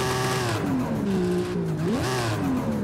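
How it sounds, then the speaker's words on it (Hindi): In a video game, a tuned Ford Mustang fitted with a turbocharger revs hard, its engine note climbing, dropping and surging again with whining harmonics, loud and close. "टर्बो की आवाज़ सुनो"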